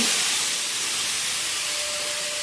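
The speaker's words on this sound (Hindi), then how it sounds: "अब छौंका लगेगा अच्छे से। तो गाइस छौंका लग गया।" A steady, loud hiss of spices sizzling in hot oil continues without a break, with no voices.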